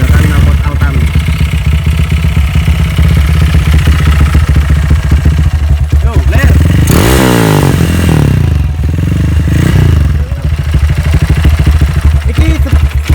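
A motorcycle of 200 cc or more fitted with an Altan aftermarket exhaust idles loud and close with a throbbing burble, then revs up sharply midway and settles back. A voice calls out briefly over the engine.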